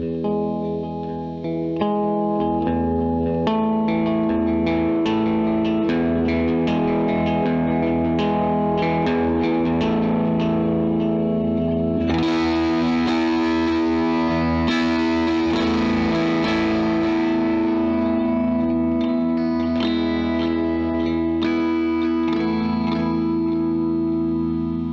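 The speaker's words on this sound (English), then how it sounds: "If you dig in hard, you have overdrive." Electric guitar dug into hard through overdrive, with effects and a compressor after the amp block, playing a dense, continuous distorted passage that grows brighter and more aggressive partway through. It is loud and steady, with no talking.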